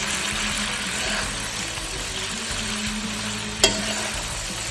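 Chicken noodles stir-fried in a pan give a steady, loud sizzle with stirring scrapes throughout, broken by one sharp clack near the end.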